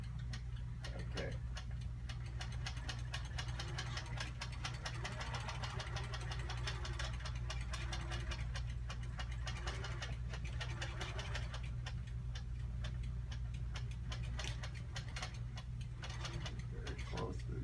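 A quilting machine running on cruise stitches through batting with a steady rapid mechanical ticking and motor hum, continuous and close, while people talk quietly over it.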